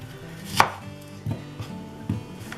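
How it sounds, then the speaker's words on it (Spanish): An onion sliced with a knife on a cutting board: three or four distinct close knocks spaced about half a second apart, the first sharpest, with no voice. "Empezamos con la cebolla. Generalmente lo que hacemos es cortarla de esta manera."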